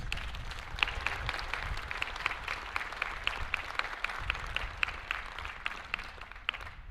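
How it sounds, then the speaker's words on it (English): A commencement audience at Miami University applauds its faculty members, sustained crowd clapping with a dense, even texture from many hands across the whole stretch, steady and moderately loud with no voices over it. "Please join me in a big round of applause for our Miami University faculty members."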